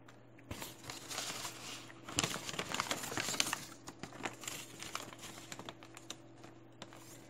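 Numbers being typed on a mobile phone keyboard: quick, quiet tapping clicks in irregular bursts, close to the listener, over a faint steady hum.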